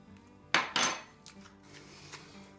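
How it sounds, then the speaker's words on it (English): A utensil mixing taco seasoning into a meatloaf mixture in a bowl, with two sharp clinks against the bowl followed by softer scraping and stirring, close and quiet. "Just give that a little mix."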